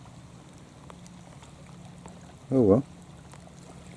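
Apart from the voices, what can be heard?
rain falling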